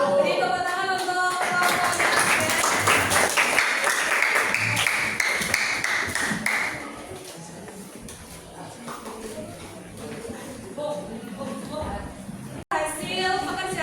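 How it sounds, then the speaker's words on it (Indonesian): Students in a classroom clap together in a loud, busy burst of applause that fades after about seven seconds into quieter room noise, with a sharp click and voices near the end. "Beri tepuk tangan untuk"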